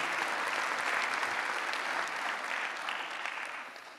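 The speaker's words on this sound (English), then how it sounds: "But we will clap anyway." Audience applause fills a hall at the ICHEP 2024 physics conference plenary session, a dense, loud, sustained clapping that slowly fades toward the end.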